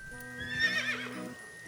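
A horse neighs in the video game AI: The Somnium Files, one clear whinny lasting about a second, heard over a low steady musical drone.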